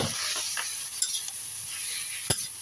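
Noodles are stir-fried in a pan with a soft, continuous sizzle and scraping stir strokes. A couple of sharp utensil clinks ring against the pan.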